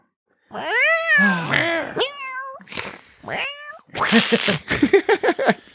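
A person imitates a cat, drawing out several whiny meows, then ends with a rapid run of short yowling cries, loud and close.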